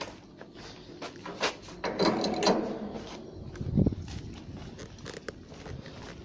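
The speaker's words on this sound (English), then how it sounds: "so I got to undo the strap." A ratchet strap on a truck load is worked loose, giving a string of quiet metallic clicks, rattles and a louder clunk midway, close by and alone.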